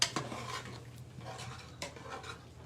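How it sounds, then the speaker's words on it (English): Leftover turkey soup stirred in a pot, a soft close scrape and a few light metallic clinks of a spoon against the pot, quiet and brief without talk. "Gonna go give the soup just a little stir, Chris."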